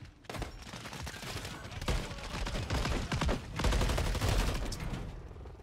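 A shotgun fires in Modern Warfare 3 as a run of heavy, rapid blasts in a busy multiplayer firefight, loud and dense, with a couple of sharp surges in the sound.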